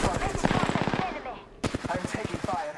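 Automatic gunfire in the video game Apex Legends rattles out in two rapid bursts, loud and close, with a short pause between them.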